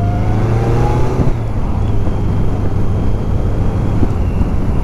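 A BMW K100 motorcycle engine drones loudly and steadily while riding, a close, constant mechanical hum with wind rush and no talk.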